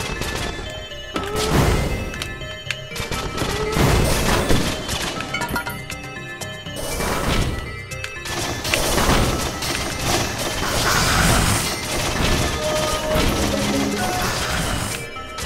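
Gunfire and weapon blasts in the co-op action game Risk of Rain form a dense, loud barrage of rapid shots, crashes and booming impacts that keeps going throughout with no pause.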